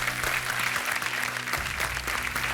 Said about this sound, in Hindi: Keep the applause going please ladies and gentleman.